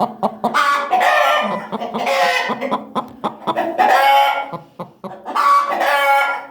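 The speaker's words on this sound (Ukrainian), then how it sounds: "така наша курка" A broody hen settling onto eggs clucks loudly and close in repeated drawn-out, throaty calls with short gaps, alone with no talking.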